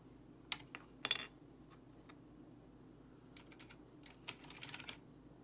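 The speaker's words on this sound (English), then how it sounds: "I want you to be able to hear the sound of me cleaning the keys." Computer keyboard keys being cleaned at close range, with scattered light clicks and clacks coming in small bursts and single taps over quiet background hum, no talking.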